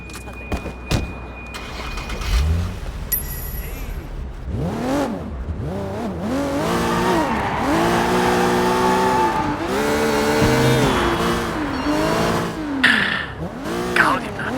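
Car in the video game Sleeping Dogs driving and accelerating, engine pitch rising and falling in repeated sweeps, fairly loud and steady through the clip.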